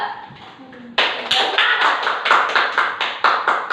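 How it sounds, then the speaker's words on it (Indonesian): A classroom of students claps for a group, starting after a brief bit of talk with a sudden burst, then settling into a strong, regular rhythmic clapping pattern of close, loud claps. "Beri tepuk tangan untuk kelompok 2."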